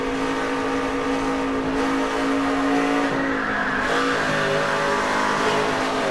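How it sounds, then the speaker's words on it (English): A race truck at Darlington Raceway comes out of turn four with its engine droning loudly, and the tires squeal as the rear loses grip, a sustained whine over steady motor noise. "You heard the tires start squealing there when he lost control of the back of that truck"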